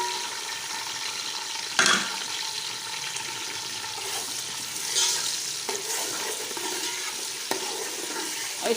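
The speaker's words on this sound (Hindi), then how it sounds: "पहले हम करेंगे प्याज इसकी फ्राई। ये हमने गोल वाली 4 स्पून ऑयल ऐड कर दिया। अब इसमें हम प्याज डाल रहे हैं" Chopped onions frying in four spoons of oil for a chicken biryani, a steady bright sizzle throughout with a few sharp clinks and stirring scrapes, close and continuous, no talking.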